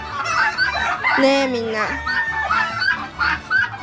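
Chickens and a rooster cluck and chortle close by in a busy flock, with a person talking over and between the bird calls.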